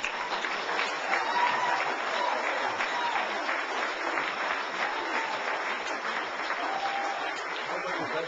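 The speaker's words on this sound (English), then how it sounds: "please put your hands together for a thunderous applause for Mr." An audience greets Jordan Maxwell with sustained, dense applause that stays loud and even throughout, a roomful of clapping hands with no pauses.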